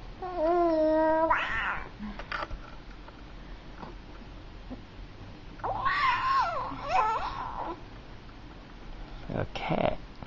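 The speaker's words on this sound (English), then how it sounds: "A cat." A cat meows several times in drawn-out, wavering cries, one near the start, a pair in the middle and a short one at the end, fairly close, with quiet room noise in between.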